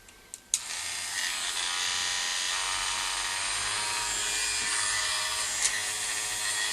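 A Dremel rotary tool fitted as a disc sander spins up with a sharp start and holds a loud, steady, high-pitched whine, close by and alone for several seconds.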